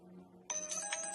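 A telephone starts ringing abruptly after a quiet stretch, giving a bright, trilling electronic ring that repeats in quick pulses and sounds fairly close.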